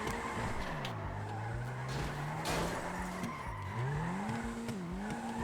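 Tires squeal continuously as a car drifts in the FiveM driving game, engine tone rising and falling with each slide, loud and close throughout with no talking.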